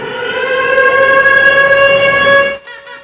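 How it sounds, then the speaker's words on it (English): A wartime air raid siren wails loudly and steadily on a sustained tone, holding close and strong before cutting off abruptly near the end, followed by brief noise. "Indeed, that's an air raid siren."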